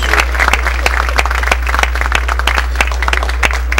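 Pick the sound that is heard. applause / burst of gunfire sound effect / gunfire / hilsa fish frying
applause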